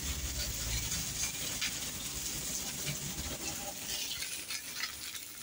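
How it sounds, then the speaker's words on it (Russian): Pelmeni dumplings fry in a pan with a soft continuous sizzle and crackle, with occasional scraping, close and fairly quiet throughout. "А пельмешки жарятся."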